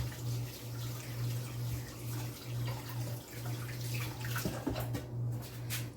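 Tap water runs steadily while hands are washed at a kitchen sink during cooking of curry chicken and steamed pork chop, a continuous close splashing stream with faint hum and a few clinks near the end, no talking.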